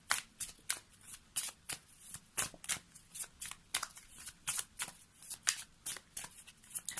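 A deck of spirit animal oracle cards being shuffled by hand, a quick regular series of crisp riffling slaps and flicks, close and fairly quiet, with no talking.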